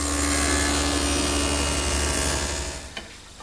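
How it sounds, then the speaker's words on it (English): A table saw with a dado blade grinds steadily through wood, cutting a slot with a loud, rough whine that fades out near the end, followed by a light knock. "The easiest way to make that slot is with a couple passes through the dado."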